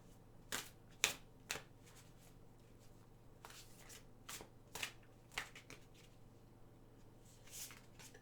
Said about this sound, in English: Okay, shuffling the cards a little bit more.